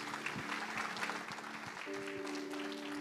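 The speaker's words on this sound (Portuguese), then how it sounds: "Bata palmas para Jesus." A church congregation claps steadily during a service, the rhythmic applause continuing throughout with a sustained tone in the background.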